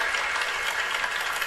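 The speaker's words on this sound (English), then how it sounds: "Give yourselves a round of applause" A class audience gives a short round of applause, a dense steady wash of many hands clapping at moderate level, heard alone without talk.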